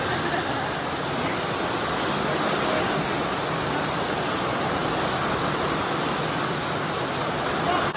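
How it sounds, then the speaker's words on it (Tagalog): Heavy rain pouring down outside in the Philippines, a dense continuous roar of water close by that stays steady and loud throughout. "sobrang lakas ng ulan"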